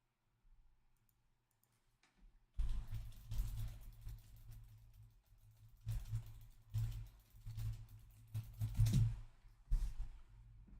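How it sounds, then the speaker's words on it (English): Loud mechanical keyboard keys clatter in irregular rapid bursts of clicks, close by, with short pauses between runs of typing after a quiet start. "Sorry, I got a mechanical keyboard and it is loud."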